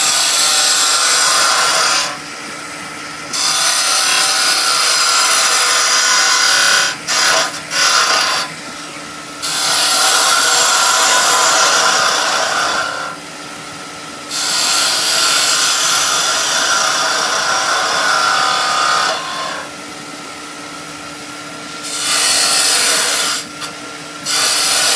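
Steady loud rasping and scraping of a tool shaping spinning wood on a lathe, broken by several short pauses, with no talking.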